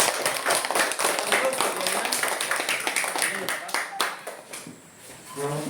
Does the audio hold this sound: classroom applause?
yes